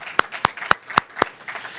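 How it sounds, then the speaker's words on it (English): Five sharp handclaps ring out at an even pace at a press conference, followed by a couple of softer claps, close and fairly loud in a quiet room. "That's worth a round of applause."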